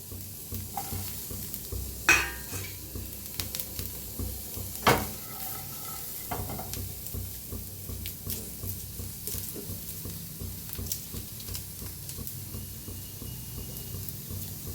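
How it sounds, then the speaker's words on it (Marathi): Garlic and onion frying in oil in a hot kadhai, a soft continuous sizzle with occasional stirring scrapes and a couple of sharper knocks, close but fairly quiet. "लसूण आणि कांदा का नाही हलकासा भाजून घेऊया आपण."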